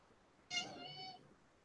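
A cat is woken up and gives a single drawn-out meow, clear and close, that rises and then fades over about a second in an otherwise quiet room.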